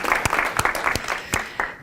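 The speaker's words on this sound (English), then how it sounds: "Big round of applause for yourselves" Short burst of audience applause at a career talk, a handful of scattered claps and cheers rising and falling over about two seconds, fairly close and with no talking over it.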